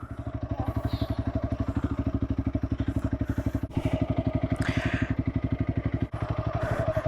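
An off-road motorcycle engine chugs in a steady, close, loud rhythm while being ridden on a camping trip, with brief dips as the rider shifts, and faint voices underneath.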